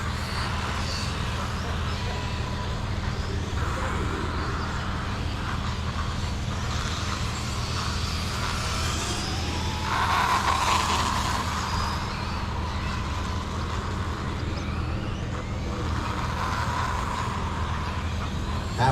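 Losi Promoto RC motorcycles race in a qualifier, their small motors making a continuous buzzing whine at a distance over a steady broadband background, with one slightly louder swell partway through.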